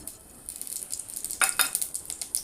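Panch phoron seeds mixed with cumin hit a little hot oil in a kadai, giving a quiet crackling sizzle that builds into a few sharper pops and spits, close and alone.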